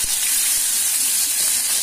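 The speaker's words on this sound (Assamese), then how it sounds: "মাছ তিনিটুকু মই ফ্ৰাই কৰিম কম জুইত ভাজিব লাগিব" Fish pieces frying in oil over low heat give a continuous hissing sizzle, close and fairly loud, with a few soft clicks at the start and no voices.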